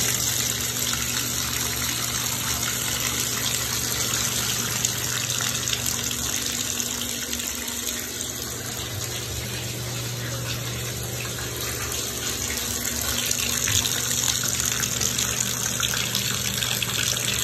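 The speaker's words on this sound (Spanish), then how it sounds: "Se está echando su baño." Water gushes steadily and loudly from a tap while a pet is given a bath, a continuous close rush of running water filling the whole stretch with no breaks.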